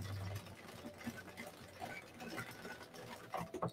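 An Addi Express knitting machine works rows of waste yarn, giving a quiet, steady clicking and rattling patter that runs throughout the short stretch.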